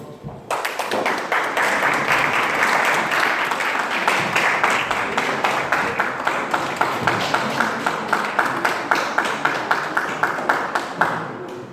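A church audience bursts into loud, sustained applause that fills the room for several seconds, then settles into a steady rhythmic clapping in time until it stops abruptly.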